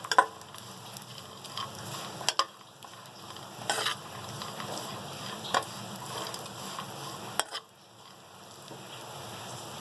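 Almonds, pistachios and other nuts and dried fruits frying gently in ghee in a pan for sweet vermicelli, a soft steady sizzle with intermittent spoon clicks and stirring scrapes, fairly quiet and close.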